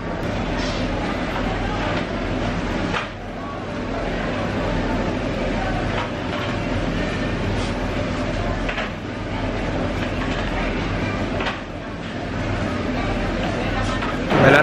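Busy hall of Santa Maria Novella railway station in Florence, with a steady rumble of trains and crowd noise throughout, occasional clanks and rattles, and voices chattering in the background.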